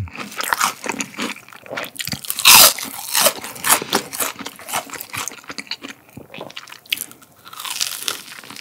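Crunchy Sichuan mala-seasoned fried chicken is bitten and chewed up close, giving loud crisp crackling crunches in irregular bursts with short quiet gaps between bites.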